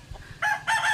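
A rooster gives a loud, close crow in two sharp bursts after a soft cluck from the chickens around it.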